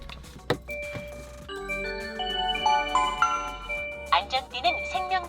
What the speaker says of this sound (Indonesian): jadi itu suaranya mobil listrik nyala